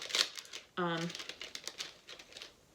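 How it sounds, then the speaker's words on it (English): Plastic packaging holding a set of pins crinkles sharply near the start, followed by a brief burst of speech and then scattered soft rustles and crackles as the package is handled. "Sorry for the crinkling."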